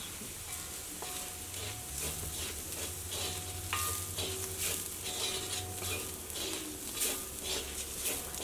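Chilli and pepper spice powders fry in oil in a pan for a tomato dish, with a steady crackling sizzle and ongoing stirring scrapes close by.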